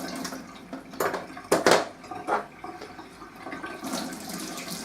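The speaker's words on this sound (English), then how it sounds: "And I'm going to just blast these with water first." Water blasts over the plastic parts of a bird feeder in a sink, gushing in uneven bursts with hard splashes and the clatter of parts knocking together, close by and with no talking.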